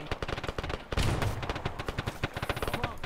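Rapid gunfire crackles in close bursts during an Arma military game session, with a heavy artillery-like boom about a third of the way through and quick shot clusters continuing afterward.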